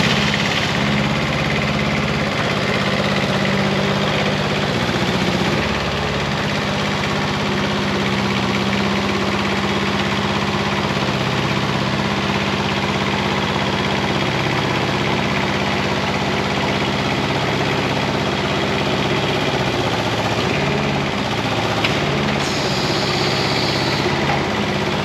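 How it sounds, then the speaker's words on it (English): The engine of a Wellbuilt CMC 75L 75-foot compact tracked spider lift runs steadily at a low, rumbling idle, loud and continuous throughout with no talking. "So let's go ahead and fire it up and I'll raise it up some more."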